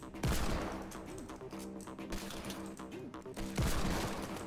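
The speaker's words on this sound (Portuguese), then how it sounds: "Tô errando os tiros!" Bursts of rapid gunfire from a game, loud and repeated, over a busy background of game sound effects.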